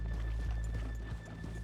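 Horse hooves clip-clop at a steady walking pace in the Red Dead video game, with a low ambient hum beneath.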